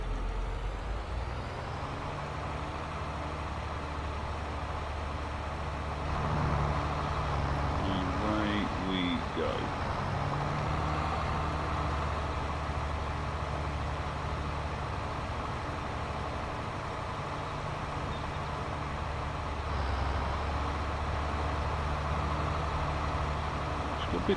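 A tractor engine in the Farming Simulator 22 video game drones at a low, steady idle and briefly revs up, with someone talking over it throughout.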